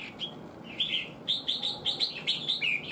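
Red-whiskered bulbul singing nearby: a run of bright, quick chirping phrases repeated in a steady rhythm over a low background hum.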